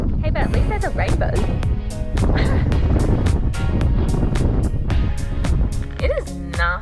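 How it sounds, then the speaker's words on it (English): Strong wind and rain in Tasmania buffet the microphone in a steady roar, with sharp gusty bursts and a voice speaking over the blustery noise. "very windy and rainy, which is just like ice on your face"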